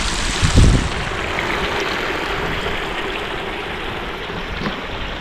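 Water from the Malegere lake in Chamarajanagar spills over its overflow channel as a steady, broad rushing roar, with a brief low thump near the start and no voices.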